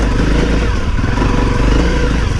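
A Honda CRF250L on an off-road trail, its single-cylinder engine running loud and close with a rough, steady throttle drone and chattering clatter, no voices.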